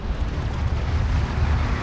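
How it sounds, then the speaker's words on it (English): Barrage explosions from siege cruisers in Homeworld: Deserts of Kharak make a continuous deep, loud roar of overlapping booms that rumbles steadily throughout. "these 2 kind of siege cruisers could get a really nasty barrage right now"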